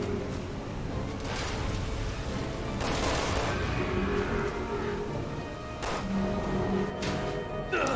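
Gunfire in Resident Evil 6, a rapid stream of shots and crashing impacts layered over a constant rumbling background, moderately loud with brief bursts standing out.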